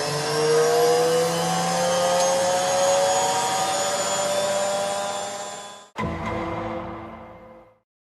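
A Hoover A3060 Electronic 1100 washing machine washing a jumbo sofa throw drones with a loud, steady whine that rises slightly, then cuts off abruptly, restarts briefly and winds down into silence.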